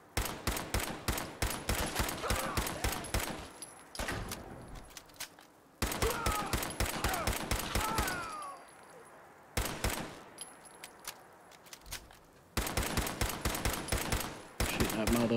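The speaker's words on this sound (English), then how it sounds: "Shoot that motherfucking turret" Rapid automatic gunfire in Fallout 4 VR aimed at a turret, coming in long dense bursts separated by short pauses, loud and close throughout.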